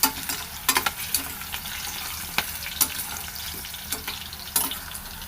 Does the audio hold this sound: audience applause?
no